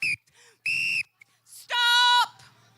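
Several loud whistle blasts signal the start of a challenge at a community event in a park: two short shrill bursts, then one long sustained blast, each standing alone over a quiet background.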